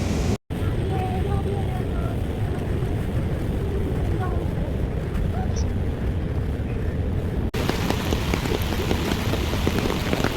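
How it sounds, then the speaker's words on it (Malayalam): Heavy monsoon rain pours down at the top of Athirappilly waterfall in the forest, a dense, steady, close hiss of falling water broken by a brief cut near the start. "മഴയുണ്ട്, നല്ല മഴയാണ് കേട്ടോ"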